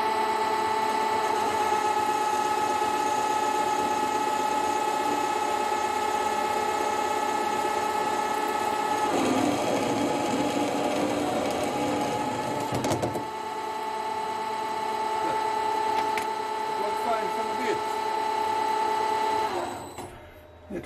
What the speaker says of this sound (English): Of all operations, I think parting is the most difficult